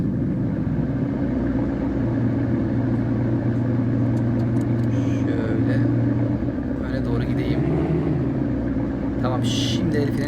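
A classic car's engine starts and runs in a mobile car-parking game, a steady low rumbling idle continuing throughout with a few faint clicks, while a person talks over it.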